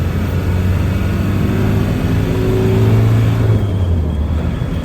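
A 1993 Land Rover Defender 110 with the 200Tdi diesel engine rumbles steadily from inside the cab as it downshifts, a low droning engine note holding loud and close throughout with no talking.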